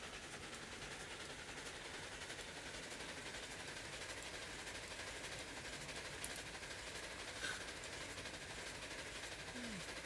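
Train in the Railroads Online video game coasting along track: a steady, uniform rumble and hiss of rolling wheels fills the clip, with a couple of faint clicks and a brief squeal near the end.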